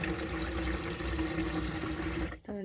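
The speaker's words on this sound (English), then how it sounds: "We have running water." Water runs from the tap of a 1997 Elddis Vogue caravan after a new pump was fitted, making a steady splashing rush for a couple of seconds before it cuts off abruptly near the end.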